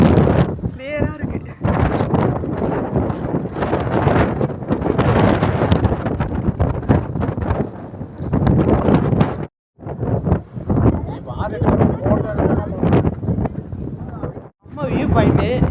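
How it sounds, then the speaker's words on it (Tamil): Strong wind blowing across a hilltop viewpoint, loud buffeting gusts roaring into the microphone almost without pause, with a person talking under and through the noise. "செம்மையா காத்து வேற அடிக்குது."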